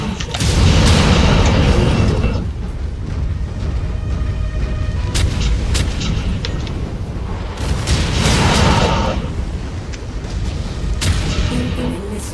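Repeated missile explosions in the video game MechWarrior 5, loud booming blasts arriving in clusters with sharp cracking transients over a rumbling low end, dense and close throughout.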